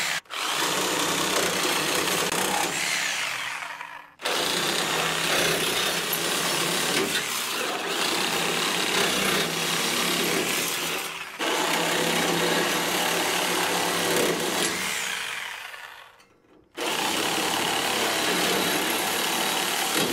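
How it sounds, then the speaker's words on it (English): Power tool cutting the front panel out of a plastic IBC tote for a firewood store, a loud buzzing cut running in three long passes with short pauses between, close and without talk. "So we're going to cut the front of this out."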